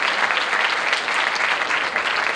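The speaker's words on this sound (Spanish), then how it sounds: "Un aplauso fuerte para Nico, Producciones Piqueras" Dense applause from a concert audience at a Santa Cecilia concert, steady and loud for the whole stretch with no pause.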